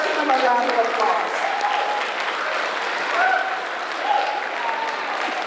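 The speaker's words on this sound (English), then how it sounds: "Let's give him a round of applause." An audience at a Telugu community Dussehra and Diwali celebration claps steadily, a dense wash of applause at moderate volume lasting throughout, with faint voices in the crowd.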